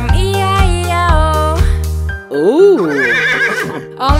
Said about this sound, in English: And on this farm he had a horse, E-I-E-I-O. With a nay-nay here and nay-nay there